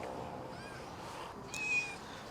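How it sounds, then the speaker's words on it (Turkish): A faint, brief meow rises out of quiet outdoor background noise near the end, a single thin cat call. "Niye miyavlıyorsun kız?"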